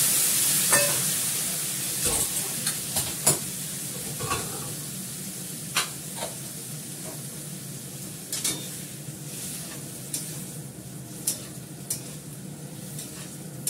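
Ginger, onion and garlic paste with a little Kashmiri chilli powder fries in hot oil, a soft steady sizzle punctuated by scraping stirs and spoon taps against the pan, with no speech.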